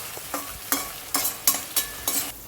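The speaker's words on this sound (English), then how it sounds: "let it cook, let the onion cook, let the garlic cook" Onion and garlic fry for a chicken ghee roast, with a soft sizzle punctuated by about six rhythmic stirring scrapes against the pan, close up and with no talking.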